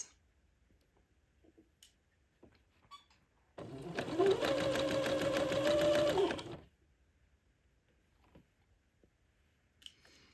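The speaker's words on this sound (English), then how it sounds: "just continue to zigzag that insertion lace to the dress." A sewing machine runs a zigzag stitch joining insertion lace to a dress, one steady burst of about three seconds with a faint high whine, surrounded by quiet handling noises.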